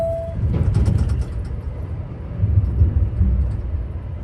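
A Eurotunnel shuttle train carries a lorry, heard as a low, steady rolling rumble with uneven surges, close and continuous, with no talking.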